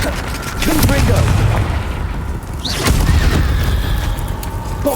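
A Confringo blasting curse explodes during Hogwarts Legacy combat, with heavy booming blasts and crackling impacts layered over game effects and a shouted spell voice.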